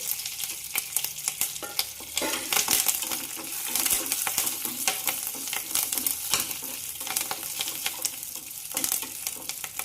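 Curry leaves and grated garlic frying in hot oil, an intense crackling sizzle with sharp spattering pops and stirring clicks throughout, loud and close, no talking.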